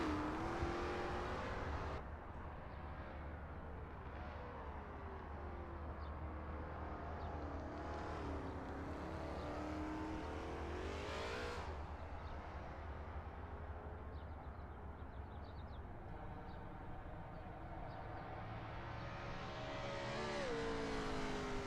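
Lola T70 MkII Spyder race cars warm up at Riverside, engines droning and revving steadily throughout, with pitch swells as cars accelerate and pass nearby, no talking.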